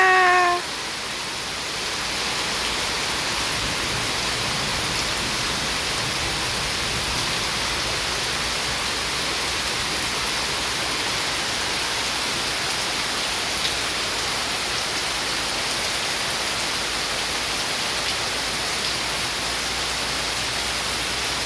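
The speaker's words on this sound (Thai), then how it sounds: "นี่ค่ะเสียงฝนนะคะ" Steady rain pours down outdoors in a continuous, even hiss that fills the whole stretch, fairly loud and unbroken, with no thunder and no voices over it.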